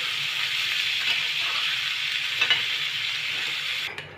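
A chana dal ladoo mixture is stirred in a hot pan, a steady hissing sizzle with light scraping touches, close by, which cuts off abruptly near the end.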